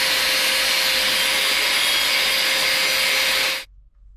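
An angle grinder disc bevels steel edges for welding on a Willys wagon project, a loud continuous high-pitched grinding whine with a steady tone that cuts off abruptly near the end.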